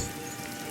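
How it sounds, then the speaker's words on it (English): Steady, even patter of rain in a zombie apocalypse video game, soft and continuous with no other clear sounds. "It's hard to see in the rain as it falls heavier"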